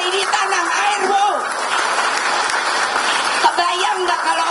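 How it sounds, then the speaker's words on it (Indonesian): Applause at a PDI Perjuangan party event, a speech announcing regional head candidates, a steady broadband clatter of clapping lasting throughout with a voice speaking over it. "Lah tepuk tangannya aja nggak meriah"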